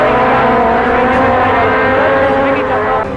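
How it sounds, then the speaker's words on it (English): Formula Chevron race car roaring steadily down a straight, a loud continuous engine note with a commentator talking over it throughout. "Karivardhan burning the tracks here, driving beautifully down the straight"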